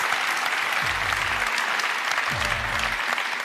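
A German sports TV studio audience applauds the new women's national football coach, a steady close roar of clapping with low thumps underneath.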